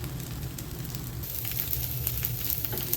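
Oil sizzles and crackles steadily under a rice flour dosa on a hot pan, a close, continuous frying hiss with small pops and no talking.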